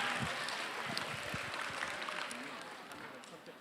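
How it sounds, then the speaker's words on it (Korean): Students and teachers at a school question festival applaud for a student called to the front. The soft clapping is fairly distant and gradually fades while voices talk over it. "친구 주제 잘 뽑으라고 박수 한번 다시 부탁드리겠습니다"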